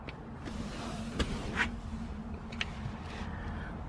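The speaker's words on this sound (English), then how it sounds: "Close the door." An Alfa Romeo Giulia Quadrifoglio door shuts with a close, solid thud, followed by a few smaller interior clicks and rustles against a low background hum.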